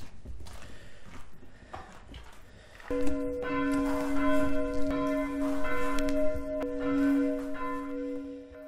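Bells of a Catholic church ring out with sustained, layered tones starting about three seconds in, swelling and overlapping for several seconds after a brief stretch of muffled background noise.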